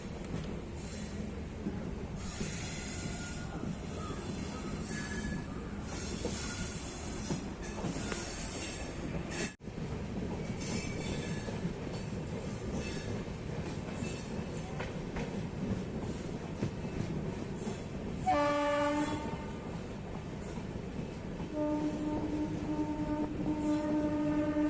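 The Gorakhpur Express passenger train runs on rails near Lakhimpur, heard from on board as a steady loud rumble with rhythmic wheel clatter and occasional squeals and tonal whines from the wheels for about twenty-five seconds, with no talk.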